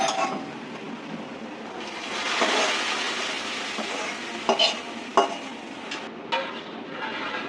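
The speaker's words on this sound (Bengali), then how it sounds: "ডালটা এখন বাগার দিয়ে দেবো" Fried onion and garlic tempering hits a pot of mango dal with a broad sizzling hiss that swells and fades, followed by a few sharp clinks of utensils, close by and without voices.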